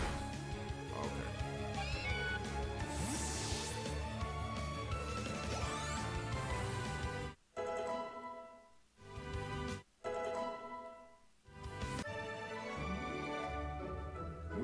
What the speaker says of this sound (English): Oh, it's Meowth for the first time.